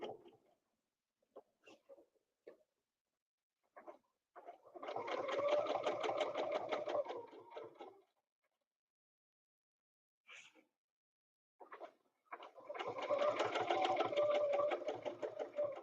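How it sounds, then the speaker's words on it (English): A sewing machine stitches a quilt block in two sustained whirring runs of a few seconds each, close and steady, separated by quiet moments with a few faint clicks and handling sounds. "you're going to continue to stitch when you get this block done"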